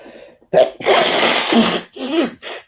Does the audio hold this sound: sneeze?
yes